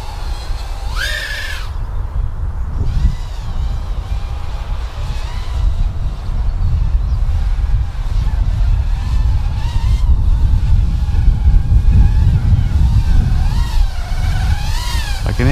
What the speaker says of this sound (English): I can hear those motors struggling a little bit.